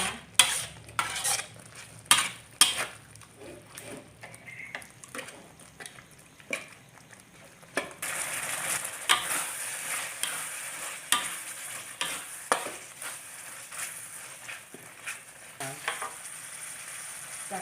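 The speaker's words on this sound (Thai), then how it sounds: "ผัดให้หมูสุกนะคะ" Pork belly sizzles in a hot pan while a utensil stirs and scrapes against the metal in irregular strokes, steady and close, with no talking.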